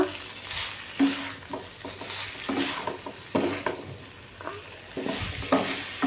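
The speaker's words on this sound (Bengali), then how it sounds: "চলো এটাকে ভালো করে মিক্স করা যাক এটাই আসল মিক্সিংটা" Ching's Hakka noodles are stirred and tossed in a sizzling pan, with repeated scraping and clattering strokes over a continuous frying hiss.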